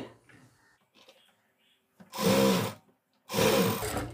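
Sewing machine stitching a Sabyasachi-style blouse, two loud sustained whirring bursts of close running motor, preceded by faint handling noises.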